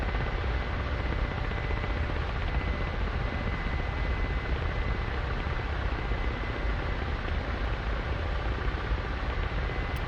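A Kamov Ka-50 coaxial-rotor attack helicopter in a flight simulator gives a loud, constant rotor and engine roar with a faint steady whine. It holds unchanged throughout with no speech.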